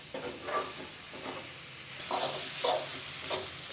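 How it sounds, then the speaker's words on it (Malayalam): Onions and tomatoes frying together for beef biryani, stirred with a utensil in a pot: a soft hiss and sizzle with several scraping strokes spaced through, close by and without talk. "തക്കാളിയും കൂടെ ഒന്ന് മൂക്കുന്ന വരെ ഇളക്കണം"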